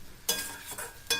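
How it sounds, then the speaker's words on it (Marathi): Eggplant bharit with fried chillies is stirred and mixed in a pan, giving three soft, short scraping strokes against a quiet background, with no one talking. "मिक्स करूया."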